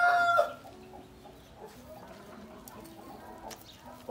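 Free-range farm chickens, a loud crow-like squawk at the start, then scattered soft clucks and scratchy movement nearby, with a sharp call returning at the very end.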